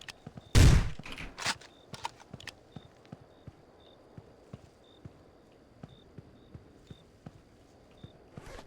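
Video game gunfire, an opening loud burst of shots followed by a long run of small, evenly spaced clicks and ticks with a faint repeating high beep underneath.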